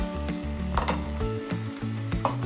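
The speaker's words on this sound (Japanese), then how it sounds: "この水分が沸騰してる間に春雨ザンと" Vegetable and shiitake juices bubble and sizzle in a pan as glass noodles go in, a steady close simmering hiss with small pops and a faint scrape of stirring, no voices.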